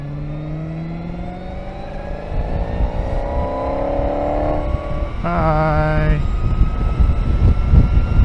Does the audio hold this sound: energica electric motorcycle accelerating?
yes